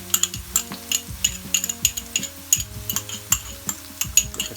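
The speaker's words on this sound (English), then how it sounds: "Give that a nice little stir" Chopped garlic and ginger are stirred in a pot, a steady run of metal spoon clinks and scrapes against the pot in a loose rhythm over a faint sizzle, close and moderately loud.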